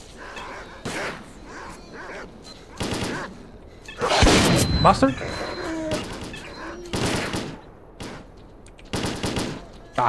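Gunfire in STALKER: Clear Sky, with a shot fired through a door: loud bursts of automatic fire and single shots come in repeated volleys and then a heavier burst. Someone speaks briefly between the shots.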